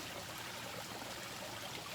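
Steady, faint rush of water falling over a small waterfall, a continuous wash with no voices.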